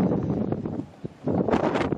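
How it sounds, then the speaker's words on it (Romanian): Strong wind roars and gusts during a sandstorm, a broad rushing blast buffeting the microphone, briefly easing before surging back loudly. "se aude doar vântul"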